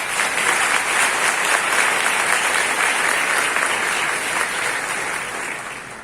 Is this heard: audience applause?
yes